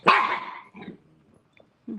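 A dog gives a loud sharp bark followed by softer growls and a brief yip, close by with quiet gaps between, no talk.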